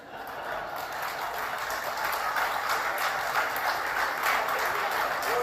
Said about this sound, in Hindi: पूरे हॉल में तालियां बजने लगी।